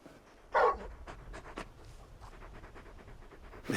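Torgal, the large hound companion from the video game Final Fantasy XVI, panting in quick breathy bursts, with one louder huff near the start, close and fairly quiet with no talk over it.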